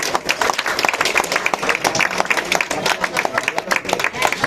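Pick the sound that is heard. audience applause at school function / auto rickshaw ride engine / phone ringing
audience applause at school function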